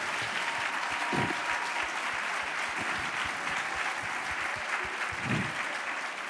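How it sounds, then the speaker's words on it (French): A studio audience at a televised debate on #MeToo applauds a guest, an actress and author, with continuous, even clapping that holds at a steady level from start to finish. "Vous pouvez l'applaudir."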